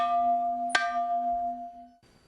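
A school bell made from a car wheel rim rings for class. It gives one sharp metallic strike over a tone already sounding, then a clear, sustained ring that decays for over a second before cutting off. No voices are heard.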